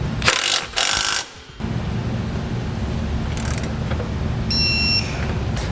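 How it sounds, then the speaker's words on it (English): A ratchet fitted with a 9/16 socket snugs down the 3/8 base plate bolts on a 2017 Chevrolet Spark, giving a few quick, close bursts of clicking and then a steady low background. "we're ready to get those bolts we just installed snugged down and torqued to specification."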